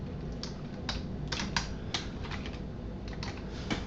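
Someone types a search for MS Visual Studio on a computer keyboard: close, crisp keystrokes in quick irregular bursts with short pauses between them.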